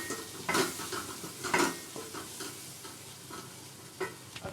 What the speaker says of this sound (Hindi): हल्का सा फ्राई करेंगे